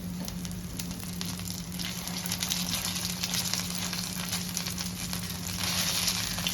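Snacks for tea fry in hot oil in a pan, giving a close, continuous crackling sizzle with a steady hum underneath and no talking.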